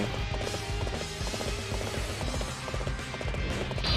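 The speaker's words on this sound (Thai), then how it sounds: "ไปเลยขี่ม้าไปเลย" Horse hooves gallop in rapid, steady clip-clop rhythm during Dynasty Warriors 8 gameplay, loud and continuous under dense battle sound and music.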